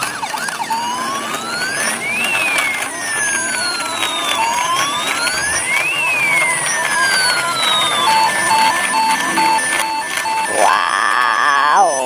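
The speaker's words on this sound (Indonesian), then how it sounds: "dan ini juga ada mobil ambulan" Toy ambulance siren wailing in slow rising and falling sweeps, then switching to a steady two-tone pattern near the end, loud and close with no talking.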